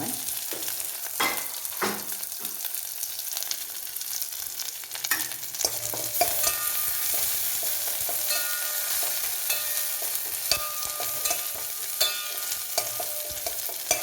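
Onion and curry leaves fry in a pan, giving a faint steady sizzle broken by sharp scraping and clinking stirring strokes at irregular intervals, close by and without any voices.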